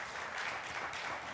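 An audience at a Q&A session claps, a dense even patter of many hands, moderately distant and sustained for the whole moment.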